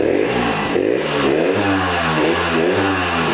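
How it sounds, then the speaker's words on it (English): A Hodaka two-stroke motorcycle engine, long unused, revs hard and close, its pitch sweeping up and down in repeated bursts of throttle with a buzzy, clattering edge. "Craig, I'll admit, not all 2-strokes sound the same."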